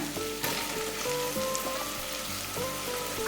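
Chopped onions frying in ghee for ghee rice, a steady close crackling sizzle with a few light clinks of a utensil or pan, and no talking.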